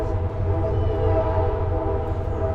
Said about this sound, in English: I know the train's coming through,